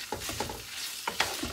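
Beef meatballs and konjac rice sizzle in an oiled pan while a utensil stirs and scrapes through them, giving a close, steady frying hiss broken by several quick clicking stirs.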